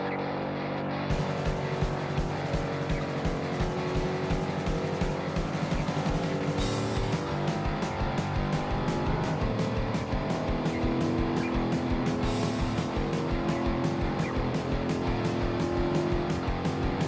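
A Dodge Super Bee races in Forza 5, its engine droning steadily under repeated gear changes and brief tire squeals, loud and continuous throughout with no talk.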